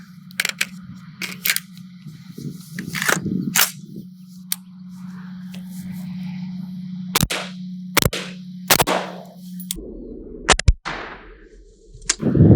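Sharp single shots from an AR rifle fitted with a Geissele braided buffer spring and H1 buffer, fired one at a time at uneven intervals over a steady low hum, each crack loud and abrupt.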